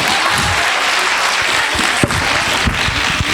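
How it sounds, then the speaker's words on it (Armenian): An audience at a children's concert by a vocal studio claps loudly and steadily, dense continuous applause filling the room from start to finish. "մեկ անգամ բարձր ծափահարենք մեր տաղանդավոր փոքրիկներին"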